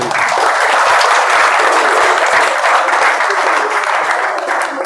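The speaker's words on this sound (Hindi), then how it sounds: "कि जोरदार तालियां हो जाए भाई।" Loud, dense applause from the audience at a village general-knowledge quiz competition, sustained and close throughout with no break.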